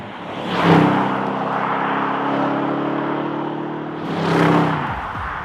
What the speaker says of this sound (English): I just want to hear that V8 again.